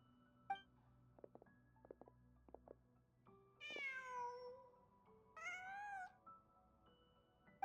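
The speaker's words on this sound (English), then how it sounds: "Just a cat." A cat in the Genshin Impact video game gives two clear, drawn-out meows a couple of seconds apart, close and fairly loud over a quiet background with a few faint soft clicks before them.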